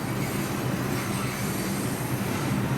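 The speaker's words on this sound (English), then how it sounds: "It's the F train, and it's leaving to go uptown at 14th Street." New York City subway F train pulling out of the 14th Street station heading uptown, a loud continuous rumble of rail cars with wheel noise and faint squeal filling the platform, no voices.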